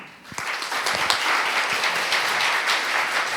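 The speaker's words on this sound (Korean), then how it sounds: "여러분 큰 박수로 맞이해 주시기 바랍니다" A conference audience applauds to welcome a speaker at a tech talk on development and operations trends, steady dense clapping filling the room for a few seconds before it cuts off.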